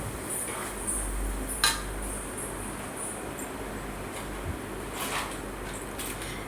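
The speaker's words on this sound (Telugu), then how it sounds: "బిర్యానీ మసాలా కూడా యాడ్ చేసుకొని ఒకసారి కలుపుకోండి అంతా." Fish pieces are stirred with biryani masala in a dish, giving faint scraping and a few light clinks of utensil on the container, close by, with no talking.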